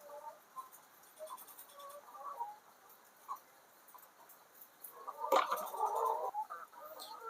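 Heat-stressed chickens in hot summer weather cluck faintly and sporadically in the background, with a louder flurry of clucking and squawks toward the end.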